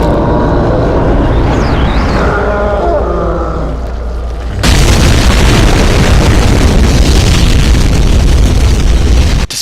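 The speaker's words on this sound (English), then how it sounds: "during its death animation, it emits a large nuclear explosion" Cyberdemon death in the Doom video game sets off a large nuclear explosion: a sudden loud roaring blast that starts midway after a rising synthetic whine and then sustains as a dense, rumbling wash until the end.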